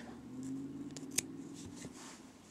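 Scissors snip crochet yarn, a single soft sharp cut standing out briefly amid a quiet room hum and faint handling rustles.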